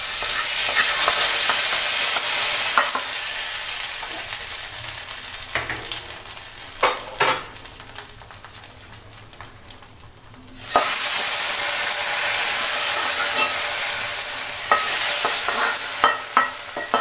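Hot tempering of dried red chillies and curry leaves poured into papaya erisseri, a loud, close, continuous sizzle with spoon clinks as it is stirred, fading briefly before the crackling hiss surges back.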